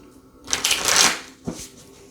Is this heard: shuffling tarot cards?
yes